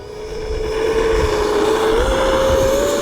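An E-Flite RV-7 radio-controlled model plane flies overhead, its propeller motor droning steadily and rising in pitch as it grows louder and nearer, heard alone without talk.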